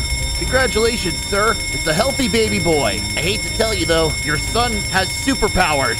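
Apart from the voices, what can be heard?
fire alarm ringing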